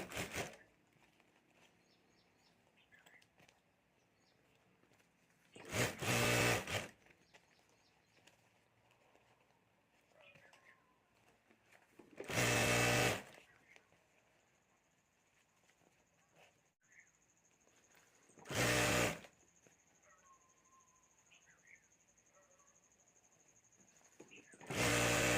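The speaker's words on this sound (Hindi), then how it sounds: "यहाँ ऊपर मैं सिलाई कर देता हूँ" A sewing machine runs in four separate short bursts, stitching fabric for a jewelry bag. Soft, faint speech in Hindi fills the quiet stretches between the runs.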